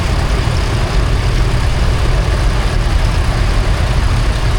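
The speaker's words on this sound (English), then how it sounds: "Another example of the diesel major, this is the power major." A Power Major diesel tractor chugs along in a parade at the Tinkers Park steam rally, its engine giving a loud, steady, close low rumble with no pauses.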